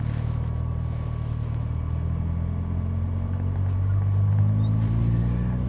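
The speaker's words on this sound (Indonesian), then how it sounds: "saya akan gas agak dalam ketika nanti masuk ke jalan tol" A BMW M3 E30 Sport Evolution accelerates onto a toll road, heard from inside as a steady, loud engine drone over road rumble, with the pitch climbing gradually toward the end and no talking.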